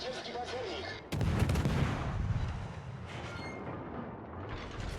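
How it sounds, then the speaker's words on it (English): A Polish destroyer's naval guns fire a salvo in World of Warships, a sudden loud boom about a second in that rolls into a long rumbling roar and then fades back toward the game's ambient hum. "Gonna take one sap salvo, maybe."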